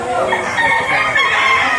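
Gamecocks for sale in Lipa, Batangas, among them a three-year-old bird, crow and cluck loudly and continuously close by, several fowl overlapping in a dense chorus.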